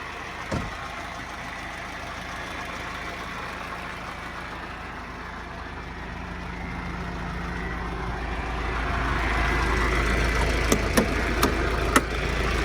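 A used truck's diesel engine runs steadily at idle, a low continuous rumble that swells slightly louder toward the end, with a few sharp clicks near the close.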